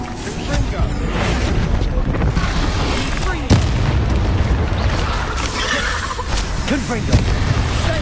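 Confringo and Bombarda spell blasts in the video game Hogwarts Legacy, loud booming explosions repeating over dense, chaotic combat noise, with a voice talking throughout.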